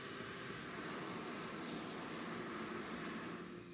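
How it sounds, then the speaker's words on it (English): Airliner jet engines hold a steady, loud, broad roar throughout with no break, as if throttled up on a runway. "The flight data recorder reveals that he opens the throttle."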